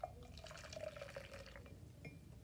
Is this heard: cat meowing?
no